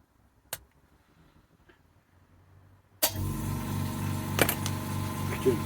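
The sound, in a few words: air compressor switching on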